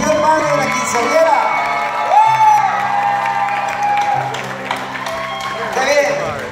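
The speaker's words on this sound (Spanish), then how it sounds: "¡Aplausos fuertes para su señor madre de la quinceañera!" Loud applause and cheering from family and guests at a quinceañera celebration, with whoops and shouts over clapping as a man calls out through a microphone.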